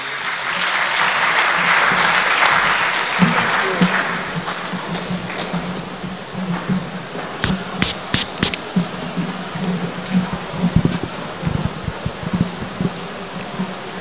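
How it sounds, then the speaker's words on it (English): A warm round of audience applause greets President Jakaya Kikwete as he comes onto the stage at an Africa Day lecture, loud and dense at first, then thinning into scattered claps with a few sharp knocks and faint room noise. "let's give him a warm round of applause onto the stage"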